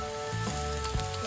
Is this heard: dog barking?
no